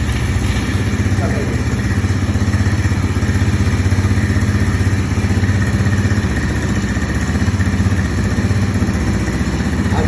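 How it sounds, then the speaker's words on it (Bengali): The 200cc engine of a Big Bull fully automatic ATV quad bike runs at a steady idle, a loud, close, evenly pulsing mechanical rumble that stays constant for the whole ten seconds. "আপনি চাইলে এখানে ইঞ্জিন স্টার্ট করতে পারেন"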